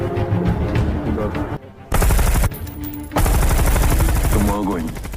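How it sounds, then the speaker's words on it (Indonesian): Rapid bursts of machine-gun fire in a war film, loud and dense, with short breaks between volleys and a voice speaking briefly in between. "Dengan tembakan beruntun yang ditembakkan oleh satu pengalih perhatian"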